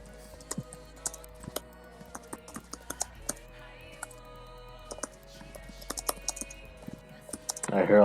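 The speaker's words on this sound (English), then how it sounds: "I hear a loud typing" Rapid, loud clicks of a computer keyboard being typed on, irregular bursts of keystrokes running throughout against a quiet background, with a louder clatter at the very end.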